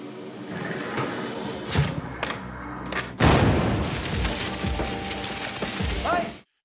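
An explosive charge placed inside a pipe in a tunnel goes off in a heavy, booming blast. Several dull thumps and bangs come before it, and a rushing, rattling roar follows before it cuts off abruptly.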